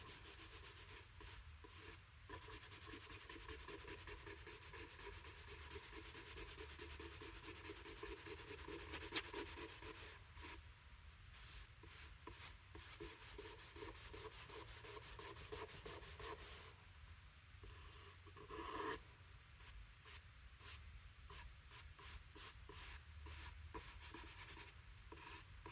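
Pencil graphite rubs back and forth on paper to fill in a cube drawing dark, a faint, continuous scratchy shading with brief pauses and quick strokes, close and quiet.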